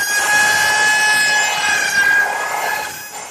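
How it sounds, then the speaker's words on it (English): A woodworking router with a dovetail jig machines pins into a half-inch drawer front, a steady loud high whine of cutting with a tonal ring that fades slightly toward the end. "then I'm ready to machine pins in the draw front"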